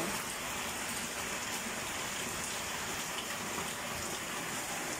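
Floodwater flows around a house on a rainy morning, a steady, dense rushing and splashing wash that stays even throughout, fairly quiet with no voices.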